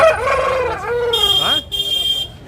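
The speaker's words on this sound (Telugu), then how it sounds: "ఇక్కడ కొన్ని పుంజులు ఉన్నాయి" At a Nellore rooster market, a rooster lets out a loud, close crow with a rising and falling call, followed by brief high whistling tones, with no talking.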